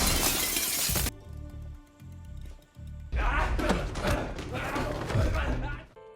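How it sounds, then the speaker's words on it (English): Glass wall shattering as a man is thrown through it in a film fight scene, a loud, bright crash at the start followed by thuds, low rumbling score and further crashing debris. "threw him through a glass wall"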